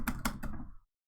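A few quick computer keyboard keystrokes, close and fairly soft, tapped in a short burst of about three clicks that stop abruptly, with no talking.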